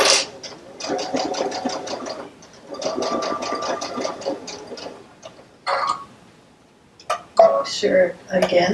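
A sewing machine pieces fabric in rapid running bursts of stitching, pausing briefly between seams, with handling clatter and a few sharp knocks near the end.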